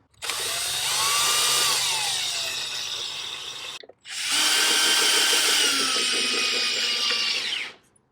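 A power driver drives screws to mount a Sniperfoot sonar bracket onto a motor in two long, loud, close bursts with a brief pause between, each whirring steadily for several seconds.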